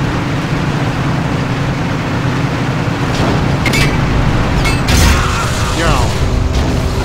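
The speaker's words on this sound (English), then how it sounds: "Anti-tank rifle right in the tank. Right in the gas." Anti-tank rifle shot striking a tank in the Forgotten Hope 2 game, set at the siege of Tobruk: a loud boom and metallic impact over a constant heavy engine rumble, with a voice talking over it.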